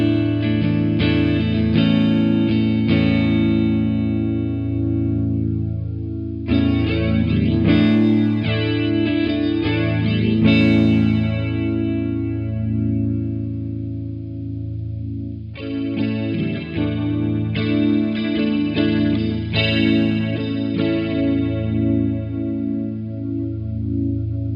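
Electric guitar chords ring out through an Electro-Harmonix Electric Mistress pedal, with chorus and flanger effects sweeping and swirling across three sustained strummed passages, loud and alone.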